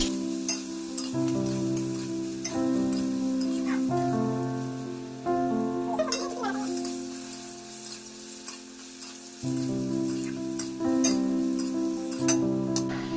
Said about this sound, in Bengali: তেল গরম হয়ে গেলে আলুগুলি দিয়ে দেব।